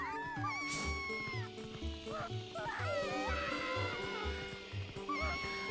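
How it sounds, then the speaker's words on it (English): A video game dog from Zelda: Twilight Princess barks repeatedly in a rhythmic series of short yips over a looping game soundtrack, fairly close and clear. "Dog."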